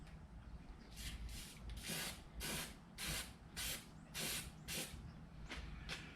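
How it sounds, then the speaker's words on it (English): A spray can of paint hisses in repeated short bursts onto a car fender test area, about nine evenly spaced sprays of roughly half a second each, close and loud over a low background hum. "we're going to do a little test spray on an area that's not going to show"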